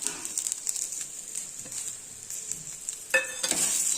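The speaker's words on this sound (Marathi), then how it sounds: "पूर्ण मिक्स करूया भाजीमध्ये" Boiled pulses being stirred into a bharangi leaf vegetable dish in a hot pan, with steady scraping strokes over a constant sizzle and a sharper scrape and clatter near the end.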